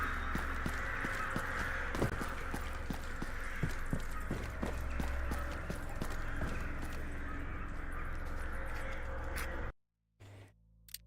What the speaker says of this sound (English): I can hear those birds really clearly for us being in an underground laboratory.